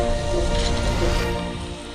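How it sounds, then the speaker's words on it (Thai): Steady broadband rain hiss falls continuously in a Roblox roller coaster building game, a dense wash of patter at fairly even loudness that eases slightly toward the end, with no clear talk over it. "มีฝนตกเลยเนี่ยฝนตก"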